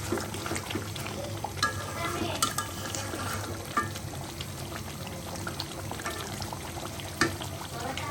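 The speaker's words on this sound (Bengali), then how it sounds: "কোয়েলের রোস্ট রান্না হচ্ছে আস্ত আস্ত রোস্ট" A whole farm-raised quail roast cooks in a pan, giving a dense, continuous bubbling sizzle with occasional stirring scrapes and clinks, heard close and without speech.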